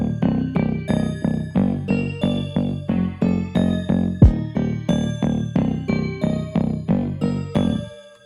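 An Ableton stock bass driven through distortion, with a low-pass filter gradually opening, plays a steady repeating pattern of loud, buzzy notes that end in a quick pitch-dropping tape-stop fade.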